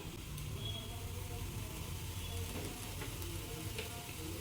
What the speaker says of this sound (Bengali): এবার আমি এটার মধ্যে দিয়ে দিতেছি টমেটো